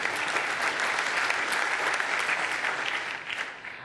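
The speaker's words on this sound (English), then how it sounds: "Yes, applause. Oh, I like applause." An audience at a technical talk on .NET 4.0 CLR features breaks into loud, dense applause that holds steady and then begins to taper at the end.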